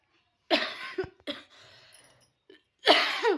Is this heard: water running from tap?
no